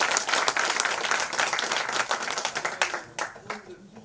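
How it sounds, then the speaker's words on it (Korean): Audience applause at a school council candidates' debate for county head, a dense crowd clapping that stays steady, then thins into scattered claps toward the end. "뜨거운 박수 한번 부탁드리겠습니다"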